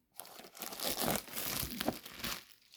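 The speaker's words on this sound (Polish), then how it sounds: "Ok, folia ściągnięta." Plastic foil torn and peeled off a Panini FIFA 365 2017 trading card gift box, a close, continuous crinkling and tearing lasting a couple of seconds.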